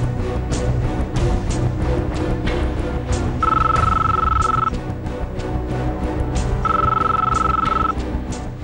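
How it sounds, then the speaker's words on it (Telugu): A mobile phone rings indoors during a Telugu TV serial scene, sounding as two steady electronic ringtone bursts that stand out clearly over a busy background of music and room noise. "ఫోను ఇక్కడే మోగుతుంది"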